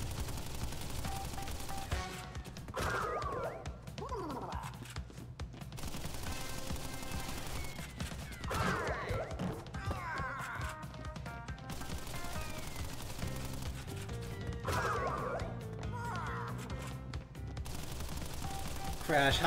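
Rapid bursts of gunfire in Crash Bandicoot, with sharp repeated shots and machine-gun rattles coming in clusters over game music, while a voice talks intermittently.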